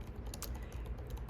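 Soft typing on a computer keyboard, a quick run of quiet close key taps.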